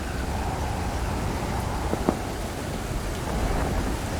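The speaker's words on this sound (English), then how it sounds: "Not quite sure why we always have a thunderstorm when it rains." Steady heavy rain with wind in the video game Stranded Deep, a dense constant roar and a faint rumble of distant thunder underneath.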